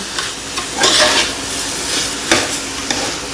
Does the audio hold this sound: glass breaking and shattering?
no